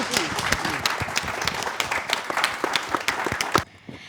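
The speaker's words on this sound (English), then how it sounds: "Can we please give them another round of applause?" An audience at a book festival session on Indigenous voices gives a round of applause to the guests. Dense, lively clapping with distinct individual claps continues for over three seconds, then cuts off abruptly.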